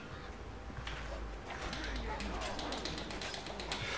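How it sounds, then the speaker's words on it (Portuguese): Birds coo and call in the Vikings: Wolves of Midgard game world, soft and scattered over steady ambient game sound, with a person talking over it. "Tanto pássaro que tem aqui no jogo."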